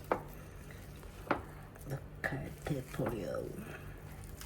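Food is stirred and mixed in a pan, with a few faint scrapes and knocks of a utensil against the pan over a low sizzle, while a voice talks faintly alongside.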